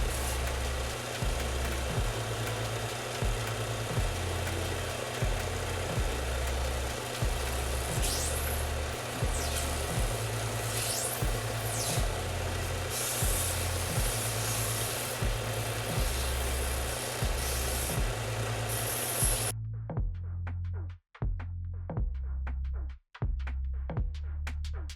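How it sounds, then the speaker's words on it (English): A belt sander grinds steadily against a knife prop replica, a continuous loud buzzing roar with a pulsing low hum that runs for most of the stretch, then cuts out, leaving a few brief knocks and short bursts near the end. "I'm going to cheat real quick and use my belt sander just to get the job done a little quicker"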